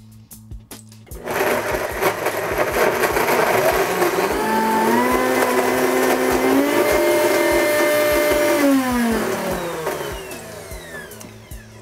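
A blender starts up and whirs loudly on frozen raspberries and raw coconut nectar, its motor pitch shifting and rising as the contents catch, running steadily for several seconds before winding down.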